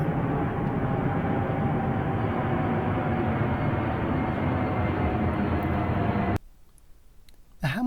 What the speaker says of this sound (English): here comes the Hong Kong flight at 4:30 a.m.